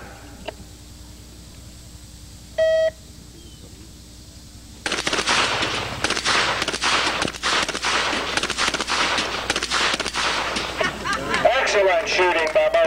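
Rapid bursts of gunfire at a shooting show exhibition, a dense string of sharp cracks running continuously for several seconds after a short quiet lead-in, with a brief beep before the shooting begins.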